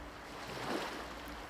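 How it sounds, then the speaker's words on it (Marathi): Sea waves wash onto a beach on a calm night, a soft steady surf with one gentle swell building and fading, mixed with light wind, no voices. "तो लाटांचा आवाज, पाण्याचा सुंदर आवाज"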